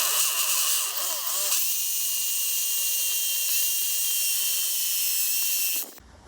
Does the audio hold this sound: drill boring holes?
yes